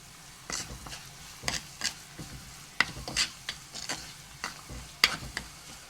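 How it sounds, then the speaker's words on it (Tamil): Sliced garlic sautés in a pan with a steady soft sizzle, broken by repeated sharp scrapes and clicks as it is stirred, for a sambal with shallots and curry leaves; no voices. "உள்ளியும் ஓரளவு எங்களுக்கு வதங்கி வருது."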